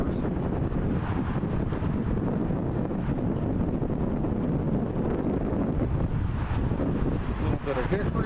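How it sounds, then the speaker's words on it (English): Strong wind blows outdoors beside a grill with passing cars, a steady loud rushing buffet against the microphone throughout with no break. "Hoping you can hear me over the wind in the cars."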